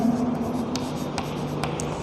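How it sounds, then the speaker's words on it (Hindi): Chalk or pen writes out a math solution, several short scratchy strokes in quick succession with brief taps, close and clear, with no talking. "तो यहाँ पे लिखेंगे सोल्यूशन"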